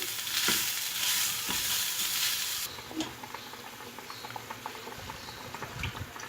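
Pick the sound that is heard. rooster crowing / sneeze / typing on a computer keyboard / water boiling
water boiling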